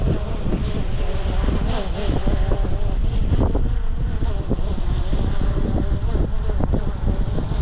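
Strong wind rushes and buffets across the microphone of a hovering DJI Mini 3 Pro drone in a steady roar, with a constant low mechanical hum underneath.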